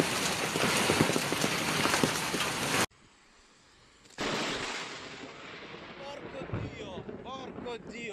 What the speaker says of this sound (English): A violent storm swept through Rome, Italy, unleashed torrential rain, thunder, and gale-force winds